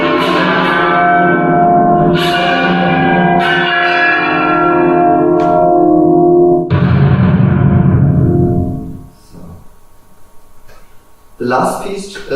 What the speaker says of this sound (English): And at the end, it's like spectral bell sounds.